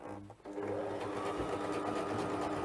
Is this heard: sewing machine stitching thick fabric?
yes